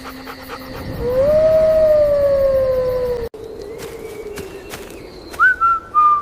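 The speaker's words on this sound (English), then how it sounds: "The wind goes into the hole and makes a whistle sound. Like a flute." Wind whistling through a hole in a tree, flute-like in an animated story: a loud sustained tone gliding slightly down for about two seconds, then quieter airy rustle and a short rising whistle near the end.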